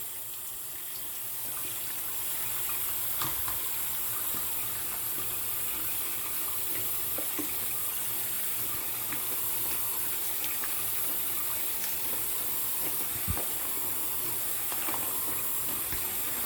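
Warm water runs steadily from a tap onto towels soaking with a spoonful of dish soap, a close, continuous splashing hiss with no voices.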